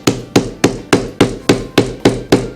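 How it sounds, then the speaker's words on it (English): A mallet pounds leather lacing flat on a belt applique, landing nine sharp, evenly spaced thuds in quick succession, close and loud with no talk. "and pound the lace down flat"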